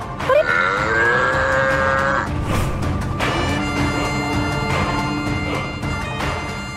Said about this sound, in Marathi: बैलाचा उमरडा